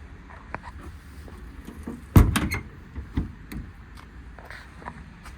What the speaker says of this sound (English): Door's a little cockeyed there, but it does close and latch.